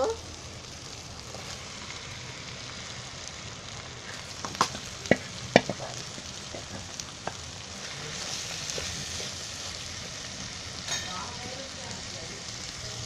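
A steady, moderate sizzle of pressure-cooked cluster beans frying in a spice masala in a pan, with a few sharp clicks and taps of a utensil partway through.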